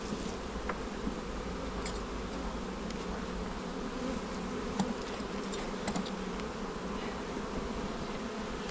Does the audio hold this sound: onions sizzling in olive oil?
no